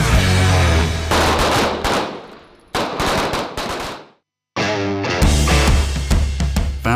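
Rapid gunfire from a collegiate cadet marksmanship team at the range, loud dense bursts of shots that stop briefly, fall silent near the middle, then resume, with no talking.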